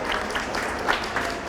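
A small audience at a school horse show display claps steadily, a light, even patter of applause with no voices.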